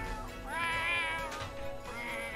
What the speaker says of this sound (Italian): quindi aggiungiamo un animale, quindi aggiungi un gatto.